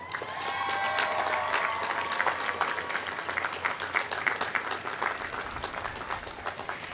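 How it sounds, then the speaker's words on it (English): Graduates at a college commencement ceremony applaud their guests, a steady wash of many hands clapping that swells early and then thins slightly toward the end, with no speech over it. "Graduates, please look back at all of your guests and give them a well-deserved round of applause"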